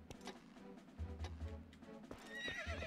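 Epona, a horse in the video game The Legend of Zelda: Twilight Princess HD, lets out a neigh over clip-clopping hooves and game ambience.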